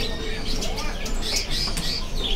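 Caged cucak ijo green leafbirds chirp at a kiosk in a bird market, high thin tweets over a steady dense background of market noise and other birds.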